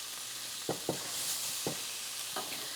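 Sausage, peppers and onions fry in a skillet over high heat, giving a steady, fairly soft hiss broken by a few brief stirring knocks.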